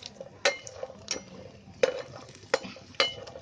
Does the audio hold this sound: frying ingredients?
yes